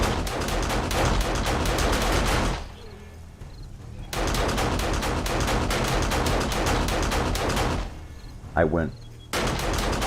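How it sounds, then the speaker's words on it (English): Rapid bursts of gunfire from the zombie survival game 7 Days To Die with the War3zuk AIO Overhaul mod, loud and dense, cutting out briefly twice before resuming, with a short spoken fragment during a lull. "I'll wait till the shooting stops."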